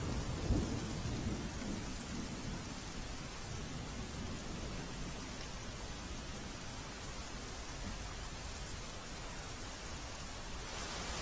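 Heavy rain pours down in a dense, unbroken roar in Dhoraji, Rajkot, Gujarat, about five inches in an hour, steady throughout with no voices.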